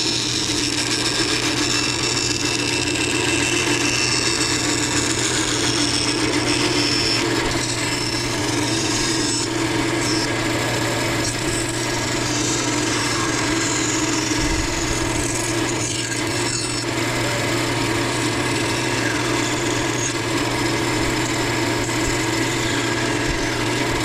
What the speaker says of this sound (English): we're gonna take this over to the bandsaw and cut this out